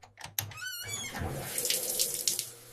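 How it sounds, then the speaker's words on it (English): Water runs from a shower, a steady rushing hiss that swells after a few brief clicks and squeaks from the tap being turned, close by and with no speech. "Turn on the shower."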